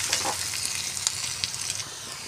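Onion, dried red chilli and bay leaf fry in hot oil for tadka dal, a steady dense sizzle with faint stirring scrapes and small crackles running throughout, close and continuous with no voices.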